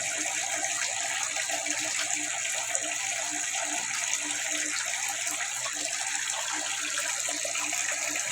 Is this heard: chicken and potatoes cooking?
no